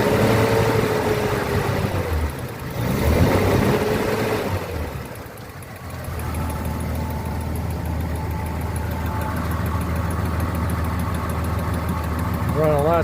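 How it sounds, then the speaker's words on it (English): A 1942 Lincoln Continental coupe engine idles steadily with a slight whine from a noisy water pump pulley, a close, continuous low rumble with someone talking over the start. "a water pump pulley making a little bit of noise"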